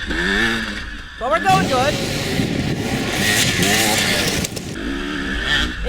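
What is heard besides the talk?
dirt bike racing in winter scramble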